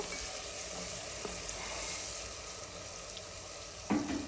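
Garam masala and chili powder frying in a pan for egg biryani, a steady close sizzle with scraping stirs throughout and a sharper clatter of the spoon near the end; no talking.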